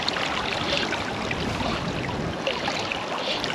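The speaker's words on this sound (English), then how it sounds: "The river's fallen back after a big spate with water from the South Tyne." The River Tyne, dropping back after a spate, flows in a steady, broadband rush of moving water nearby, continuous and unbroken, with no voices.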